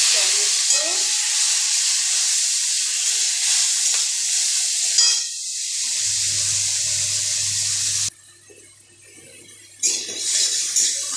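Cumin, a bay leaf and whole garam masala fry in hot oil with a loud, steady sizzle that drops suddenly to a quieter hiss, followed by a brief clatter.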